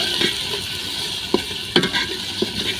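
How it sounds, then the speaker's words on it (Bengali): Ginger garlic paste sizzles steadily in a hot pan while a utensil scrapes and taps the metal a few times. "আদা রসুন বাটাগুলা 30 সেকেন্ডের জন্য ভেজে নেব"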